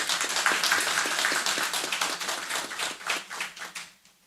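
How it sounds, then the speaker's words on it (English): An audience at a weather and climate outlook forum claps in a round of applause, a dense patter of many hands that holds steady and then tapers off. "give these two distinguished gentlemen a lusty round of applause for their efforts"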